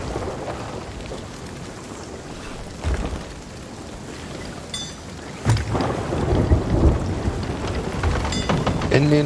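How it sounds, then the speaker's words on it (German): A storm rages at sea in the video game Sea of Thieves: steady heavy rain hisses while low thunder rumbles build, and a sharp crack hits midway before the downpour grows louder. "Ja, weil es stürmt."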